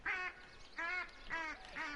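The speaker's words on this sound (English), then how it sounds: "we'll be constantly calling 4 sets of ducks all of the time" Ducks quacking in the hunting video game theHunter: Call of the Wild, four nasal quacks in an even rhythm, fairly loud and close, with no voices.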